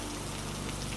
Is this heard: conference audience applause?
no